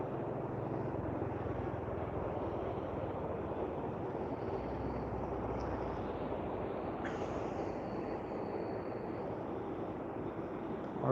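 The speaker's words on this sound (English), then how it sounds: "It's a pretty cool looking jet, small jet plane." Steady roar of a small jet plane at Vancouver International Airport, a continuous broadband engine rush holding even and fairly near throughout with no voices.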